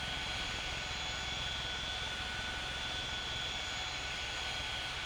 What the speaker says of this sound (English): Runway 27, clear for takeoff.